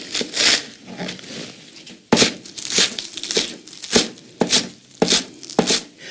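A knife chops green onions on a cutting board in crisp, uneven strokes, close and distinct, several sharp cuts in quick succession with brief pauses between.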